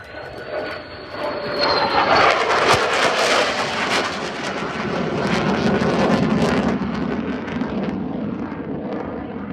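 A low-hovering aircraft at the Farnborough Airshow produces a loud, continuous engine roar and rushing turbine noise that swells and holds steady, with a faint high whine early on and no voices.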